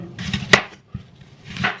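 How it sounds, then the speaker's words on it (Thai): A knife chops through apple on a cutting board for an apple cake, giving a few distinct close thumps and crisp slices with short pauses between them. "ก็เลยต้องมาหั่นตอนนี้"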